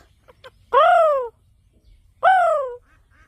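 A parrot imitating a crow lets out two harsh, drawn-out caw-like calls, loud and close, separated by a pause, with faint small clicks before the first.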